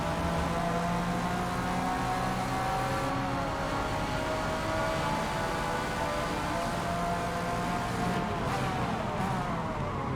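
Prototype race cars, P-class Group C, GTP and Le Mans machines, roar together in Forza Motorsport, a steady loud engine drone with shifting pitch as several cars rev and pass, with no talk.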